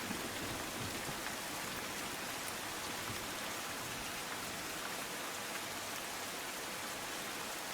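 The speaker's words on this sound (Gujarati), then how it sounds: "ધીમી ધારે છૂટો છવાયો વરસાદ વરસી રહ્યો છે" Rain falls over Surat, Gujarat, where streets and underpasses are waterlogged, making a steady, unbroken hiss of drops on surfaces that holds at an even level throughout.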